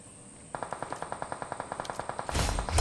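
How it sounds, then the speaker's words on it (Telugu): Rapid sniper and automatic gunfire in a shooter video game, a steady train of about fifteen sharp reports in quick rhythm, ending in a louder, heavier blast. "ఎవడు నాకు స్నైపర్ తో కొట్టినాడు రా పేను"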